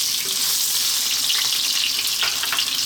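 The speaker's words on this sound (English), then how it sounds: "So as that oil heats up, in goes our onions" Onions hitting hot sunflower oil in a wok, a loud continuous hiss and crackle of frying with occasional sharper pops, steady throughout with no voices.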